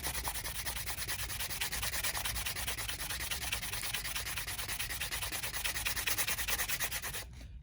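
An epoxy resin pen is rubbed with a small hand sander block in quick, rhythmic scratchy strokes that stay close and steady before stopping abruptly at the end, with no voices.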